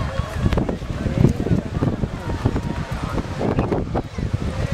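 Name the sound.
strong wind blowing outdoors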